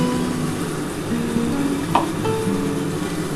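Spice masala added to fried onions in a pan for chilli fish, a continuous close sizzle and crackle with a faint utensil tap, no voices.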